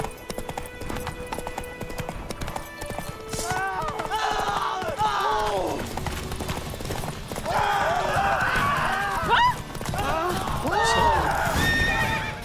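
Horse hooves clip-clopping in The Witcher 3: Wild Hunt, a steady run of close hoofbeats with whinnies and neighs along with game sounds, and a voice speaking over it.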